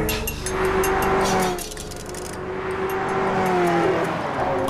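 A car engine revving and accelerating, loud and close, with a rising and falling whine over a broad rushing roar.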